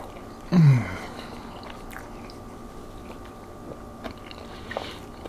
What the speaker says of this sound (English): The bacon is still crunching.